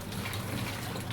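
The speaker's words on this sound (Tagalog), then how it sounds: "babanlawan natin para malinis na siya. Tanggal na yung mga bula-bula dito" Running water rinses soap suds away during brushing and washing, a steady close gushing splash like a tap pouring, continuous and fairly loud with no voices.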